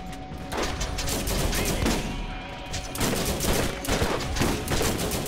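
Sustained automatic gunfire from the Borderlands video game, loud and close, with rapid overlapping shots in uneven bursts across the whole stretch and no talking.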